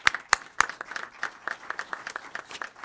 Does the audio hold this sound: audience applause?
yes